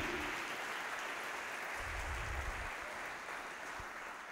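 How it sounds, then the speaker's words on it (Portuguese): Applause from a church congregation during a worship service, a soft, distant wash of clapping that holds steady and fades slightly toward the end, with low rumble underneath. "Dá um aplauso a Jesus."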